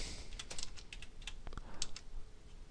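Quick bursts of keystrokes on a computer keyboard while filling in shipping information, a run of clicks with short pauses between them, close and fairly soft, with no talking.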